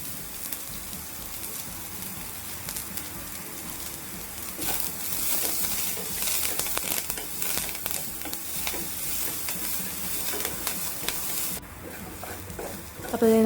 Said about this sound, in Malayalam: നമ്മൾ നേരത്തെ തന്നെ അരിഞ്ഞ് വെച്ചേക്കണ സബോളയും പച്ചമുളകും വെളുത്തുള്ളിയൊക്കെ ചേർത്തിട്ട് നല്ലോണം നമുക്ക് വഴറ്റിയെടുക്കാം